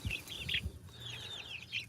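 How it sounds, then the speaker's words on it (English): Little baby chickens being raised outdoors in Austin, Texas, giving repeated high, thin peeping calls in short bursts over a low background rumble. "We just raise little baby chickens."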